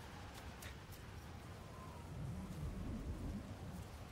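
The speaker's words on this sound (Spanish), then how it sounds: "Sí, está lloviendo, sí." Rain falls steadily in a survival video game, a soft, continuous hiss joined by low rumbling thunder that swells in the second half, faint and distant with no talk.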